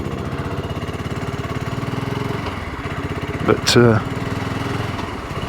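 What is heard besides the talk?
BSA Goldstar single-cylinder motorcycle engine running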